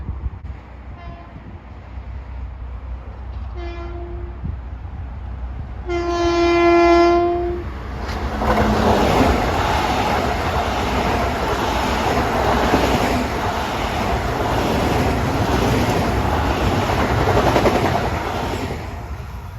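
An LIRR M7 electric commuter train passes Pinelawn at modest speed, opening with a few short horn blasts, then a loud, steady rumble and wheel noise that holds close for over ten seconds.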